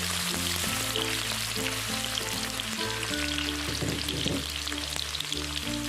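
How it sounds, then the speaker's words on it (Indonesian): Shallots sizzling steadily in hot oil for a Padang-style squid dish, a close, dense crackle running throughout under soft background music. "Minyaknya sudah panas, kita masukkan bawang merah."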